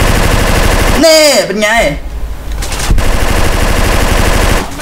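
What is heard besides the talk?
gunfire in the video game GTA San Andreas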